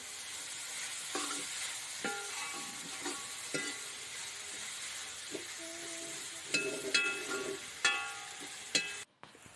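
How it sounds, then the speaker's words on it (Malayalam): Chopped tomatoes are stirred in a hot frying pan for egg biryani, with a steady sizzle under repeated scraping and clinking strokes from a spoon that grow louder and sharper toward the end. "തക്കാളി ചേർത്ത് നന്നായി ഒന്ന് ഇളക്കുക"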